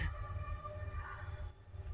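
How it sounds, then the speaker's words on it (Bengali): Crickets chirp faintly and continuously on a pitch-dark night along a road on a moonless night, a thin, steady insect trill over a low background rumble. "চারপাশে ঝিঝি পোকার ডাক শোনা যায়।"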